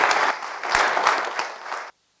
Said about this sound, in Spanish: Vamos a dar un aplauso a nuestra hermana por su testimonio